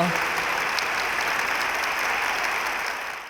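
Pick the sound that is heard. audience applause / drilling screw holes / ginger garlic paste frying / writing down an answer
audience applause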